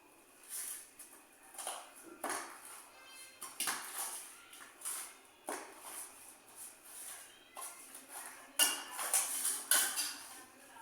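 Ingredients being mashed in a metal pot while cooking, repeated soft thuds and scraping clinks at an irregular rhythm, close but quiet.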